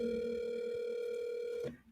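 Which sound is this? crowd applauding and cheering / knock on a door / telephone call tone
telephone call tone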